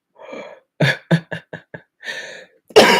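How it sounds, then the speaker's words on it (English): A close, quick burst of several harsh coughs in a row, followed by a breathy clearing of the throat and another rough cough. "maybe I'll turn that way so I'm not directly coughing into the microphone"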